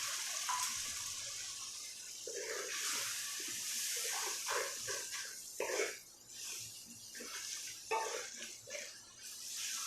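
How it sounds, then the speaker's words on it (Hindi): Water is poured into a pan of sizzling dal masala, giving a close, hissing splash with bubbling. Clatter and faint movement are heard in the background. "थोड़ा सा पानी शामिल करेंगे।"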